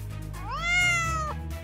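A single drawn-out cat meow, rising then falling, close and clear over a low background hum.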